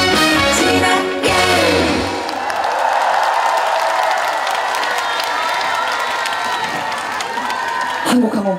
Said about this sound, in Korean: 열심히 큰 소리로 박수 쳐주셔서 진심으로 감사드리고